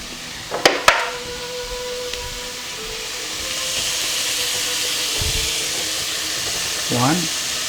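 Garlic with lean ground beef hisses in a hot pan as a steady broadband sizzle that swells and holds, preceded by a couple of sharp clinks, with a voice briefly speaking near the end.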